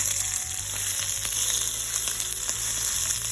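Shallots and spinach sauté in hot oil in a skillet, giving a steady, close sizzle with faint crackle throughout and no talking.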